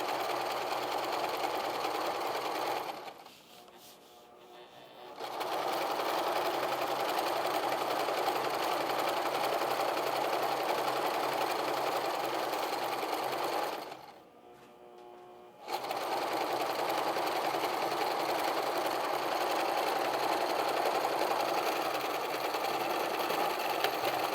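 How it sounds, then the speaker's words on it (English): A sewing machine stitches the side seam of an apron in long steady runs, stopping twice briefly before whirring on again, close and loud with no talk. "you're going to start sewing up under your arm"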